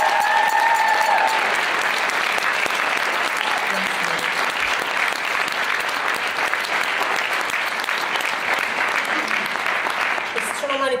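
An audience at a 2015 closing ceremony gives a round of applause, loud, dense clapping with some cheering that carries on steadily for about eleven seconds.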